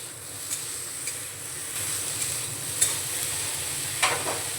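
Eggplant pieces dusted with turmeric powder frying lightly in oil, a soft steady sizzle with a few sharp scrapes and clicks of stirring against the pan, fairly quiet and close, no voices.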